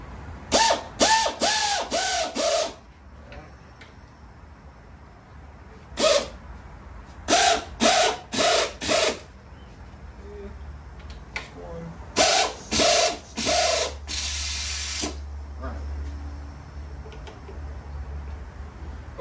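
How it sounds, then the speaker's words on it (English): An air ratchet snugs bolts on a 283 small block Chevy engine, rattling in quick clusters of short buzzing bursts separated by pauses, close and fairly loud over a faint background hum. "I'm gonna take this air ratchet and just zap them on."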